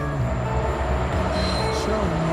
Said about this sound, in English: The second I pushed record, a train started coming.